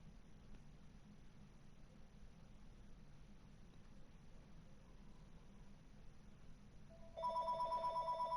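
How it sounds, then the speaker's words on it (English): A telephone starts ringing in the background near the end, a faint repeated electronic trill following a long stretch of quiet room hiss. "the phone ringing in the background"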